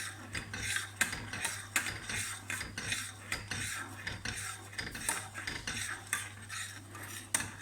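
Spoon scraping and clinking in a pan as a thickening Madeira sauce is stirred, steady irregular strokes with a faint low hum underneath, no talking.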